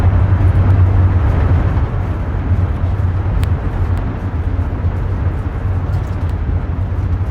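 Steady, loud roar of an Airbus A350 in reverse thrust and braking after touchdown in Microsoft Flight Simulator 2024, a dense continuous rumble with a low hum that eases slightly but stays constant.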